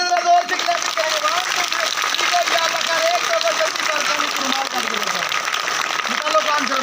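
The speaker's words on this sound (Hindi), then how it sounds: "तालियां नहीं बजा रहे, जरा जोर से क्लैपिंग करेंगे।" Audience clapping at a magic show, a steady wash of applause for about seven seconds with a voice speaking over it throughout.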